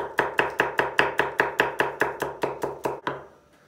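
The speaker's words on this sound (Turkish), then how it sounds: "Yeşil soğan doğruyoruz." A knife chops green onions on a board in quick, even strokes. About a dozen crisp, close taps come in a steady rhythm, then stop.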